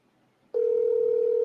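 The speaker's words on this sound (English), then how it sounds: "It's ringing. It's still ringing. It's ringing very slow." A telephone ringback tone from an unanswered outgoing call begins abruptly after a short quiet stretch, then holds as one loud, steady, continuous tone to the end.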